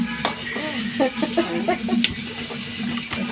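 Beans sizzle and crackle in hot oil while a spoon scrapes and clinks against the pan, a steady frying hiss underneath.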